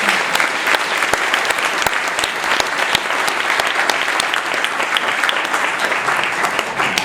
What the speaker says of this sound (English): So how about a round of applause for all of them?